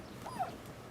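Dog Bubba in Rise of the Ronin giving a single short, soft whimper that rises and falls once, faint over a low background hum.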